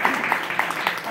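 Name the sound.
audience clapping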